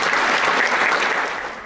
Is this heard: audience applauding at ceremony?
yes